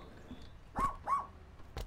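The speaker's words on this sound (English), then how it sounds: "Hello, pup. You little wiener dog." Short game-style barks from a little dachshund in a life simulator, two quick yips close together followed by a third after a brief pause, moderately loud and with no talking over them.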